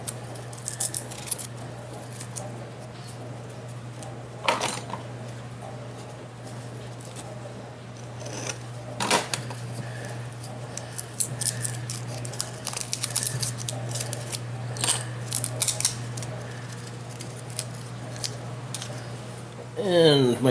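Paper mache cottage pieces being unwrapped at a table, with scattered crinkles and rustles at close range over a steady low hum, a few sharper tears near the end.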